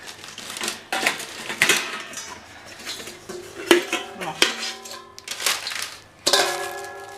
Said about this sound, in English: That's the pan that goes on the bottom of it, and these are the ones that go on top.